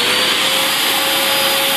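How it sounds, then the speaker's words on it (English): A vacuum cleaner runs continuously at full power, a loud steady roar with a constant whine, alone with no voices over it. "Vacuum cleaner in place."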